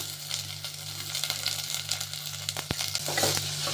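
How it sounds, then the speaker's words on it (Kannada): Chopped onion and mixed vegetables fry together in hot oil for home-style fried rice, giving a steady, close sizzle with a low hum beneath and one sharp clack partway through. "ಹಾಕಿ ಎಣ್ಣೆಯಲ್ಲಿ ಫ್ರೈ ಮಾಡ್ಕೊತಾ ಇದ್ದೀನಿ."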